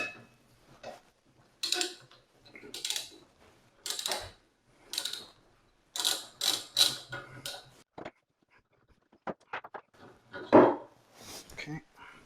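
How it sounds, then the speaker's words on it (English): A socket set ratchet loosens a tightly fastened plinth on a marble column, giving short bursts of crisp ratcheting clicks with pauses between them, fairly close, while a person talks. "That I have to get a socket set to get that off."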